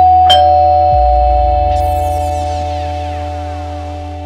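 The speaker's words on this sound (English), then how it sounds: "is that the doorbell?" A single electronic doorbell chime rings out loudly, its bright tones ringing and slowly fading away, with no voices.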